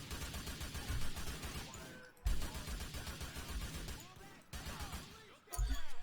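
Rapid gunfire and blasts from the video game GTA IV, played on PC with cheats as a chaotic stress test, forming a dense, continuous roar of shots with heavy low-end bursts around two and five and a half seconds.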